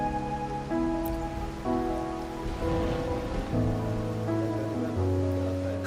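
Rain patters steadily on surfaces in the video game Wuthering Waves, a soft constant wash under layered sustained musical tones.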